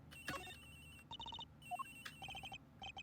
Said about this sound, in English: His phone is ringing from somewhere, sir.